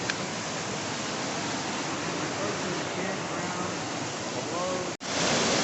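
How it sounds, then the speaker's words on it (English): Waterfalls on the West Branch of the Penobscot River, heard as a steady, loud, broadband rush of falling water with no break apart from one brief dropout near the end. "It's got a bunch of these waterfalls like this."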